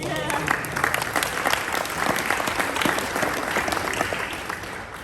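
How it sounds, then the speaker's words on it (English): Steady applause from an audience fills the room, dense clapping holding at an even level throughout without pause. "Give Charlotte a round of applause."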